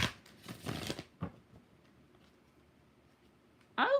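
A tarot deck bought cheaply is shuffled by hand, a quick riffling flutter followed by a single short snap, then a brief bright card flick near the end, close and fairly quiet.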